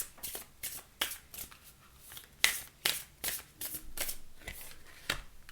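Oracle cards being shuffled by hand in a quiet room, a run of crisp riffling bursts roughly every half second, close and clear with no talking.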